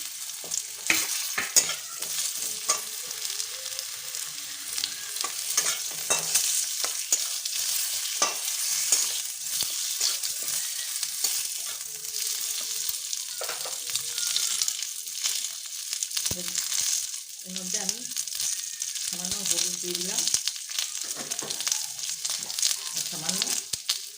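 Potatoes frying in a pan of oil with bay leaf and black cumin, a continuous sizzle broken by frequent scraping stirs and clinks, close and moderately loud.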